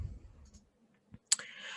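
A single sharp computer mouse click stands out after near silence, with faint low room noise and a soft tap just before it.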